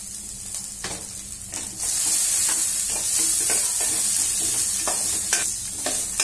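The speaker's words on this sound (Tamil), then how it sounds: "இது எண்ணெயில நல்லா வதங்கி வரட்டும்." Steady sizzling of beans frying in oil in a pan, with occasional stirring scrapes, continuous and fairly loud throughout with no talking.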